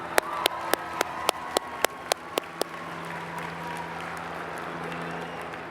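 A short burst of applause at a 2008 commencement convocation honoring award recipients: a string of distinct claps that thins out within a few seconds, leaving a steady hum of room noise.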